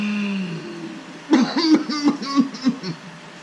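A person coughs about six times in quick succession, close and fairly loud, after a brief low hum at the start.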